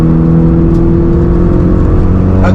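Modified car engine running loud and close, a steady mid-pitched drone with a slight rise in revs as the drive gets under way.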